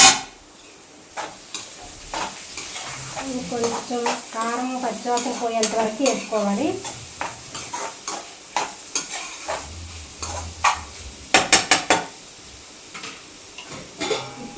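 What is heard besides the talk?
stirring curry frying in a pan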